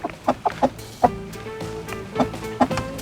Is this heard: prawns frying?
no